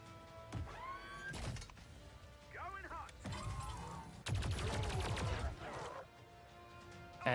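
A captured turret fires on aliens in XCOM 2, with bursts of gunfire and sharp impacts amid game effects and whining electronic sounds, loud and close.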